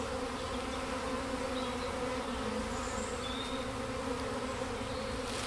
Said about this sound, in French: Il n'y a aucune abeille qui veut rentrer dans ma ruchette.